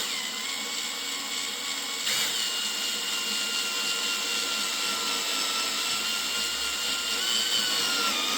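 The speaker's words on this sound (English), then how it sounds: "drill with the step drill." A power drill fitted with a step drill bores a hole in a case, a steady high-pitched whining grind running continuously, close and loud, with a brief shift in tone partway through.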